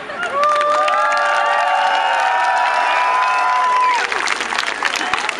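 A crowd at a march in Kyiv claps and cheers loudly and continuously, with whistles and shouts riding over the steady applause; the cheering eases after about four seconds while scattered clapping carries on.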